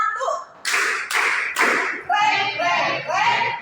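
Children in an Indonesian classroom play a rhythm game, clapping three sharp, close hand claps in even time before breaking into a short group chant.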